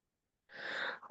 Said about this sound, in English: I know I am sneezing so much today